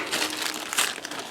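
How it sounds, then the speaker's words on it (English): Plastic packaging crinkles and rustles up close as it is cut open with scissors, a brief continuous crackling with no talking. "we'll open it with a pair of scissors"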